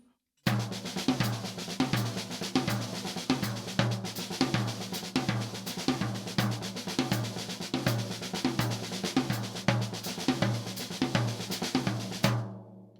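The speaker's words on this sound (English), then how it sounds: "So here's that 2-bar cycle, accents on the toms." A drum kit plays a continuous two-bar six-stroke roll cycle with accents landing on the toms. Dense, even sticking runs steadily for about twelve seconds and then stops abruptly, loud and close with no talking.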